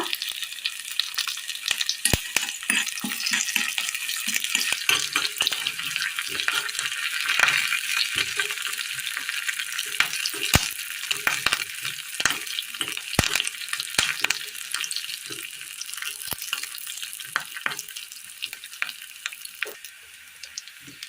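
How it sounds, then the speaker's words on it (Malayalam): Mustard seeds, shallots, dried chilies and curry leaves fry in hot oil for a Kerala curry tempering, giving a dense, continuous crackling sizzle with rapid pops and spatters, close and loud, with no talking. "കടുക് ഇട്ട് കൊടുക്കാം. ചെറിയുള്ളി, വറ്റൽമുളക്, കറിവേപ്പില,"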